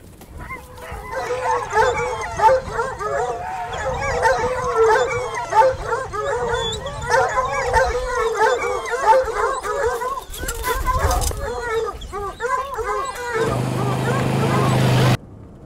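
A pack of hunting hounds baying and howling during a hare hunt with hounds in Charente-Maritime, a dense, overlapping chorus of yelps and howls close by that continues for over ten seconds, with a voice talking over it.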